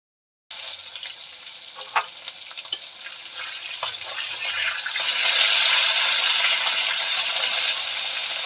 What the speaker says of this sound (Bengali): রুই মাছ ভাজা হচ্ছে বন্ধুরা